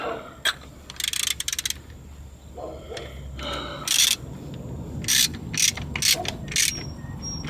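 A ratchet clicks in short rapid runs while the oil drain plug is tightened on a 2015 Honda Civic 1.8, with bursts of clicking spread through the clip, close and fairly loud against a faint background.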